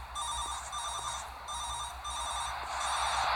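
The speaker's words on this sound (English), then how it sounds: "Wait, I hear a phone." A telephone rings with a steady repeating electronic trill inside the horror video game P.T., in bursts separated by short pauses over a low background hum.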